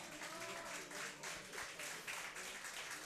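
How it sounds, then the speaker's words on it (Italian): Crowd applause at a youth football match in the Universal Youth Cup 2018, given for substitutions by both teams, a steady, fairly quiet wash of clapping from spectators that continues without pause for about three seconds. "Intanto sentite gli applausi per i cambi che vengono operati dalle due formazioni"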